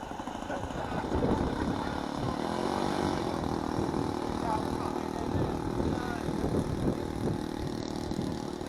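A radio-control model airplane buzzes into its takeoff at an RC jamboree on the Old Rhinebeck Aerodrome field, its small engine whining steadily with wavering pitch over outdoor wind noise.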